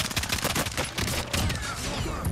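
Rapid bursts of pistol gunfire in a shooter video game, dense overlapping shots at close range, loud and continuous for about two seconds with no voices.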